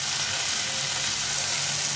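Spice paste of ground green chilli, cumin and ginger with salt, turmeric and chilli powder frying in a pan, giving a steady, even sizzle throughout at close range.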